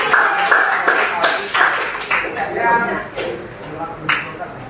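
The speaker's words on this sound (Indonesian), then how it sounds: "gitu tepuk tangan buat kelompok" Students in a classroom give scattered clapping for a presenting group, a few sharp claps rising and fading while voices talk over them.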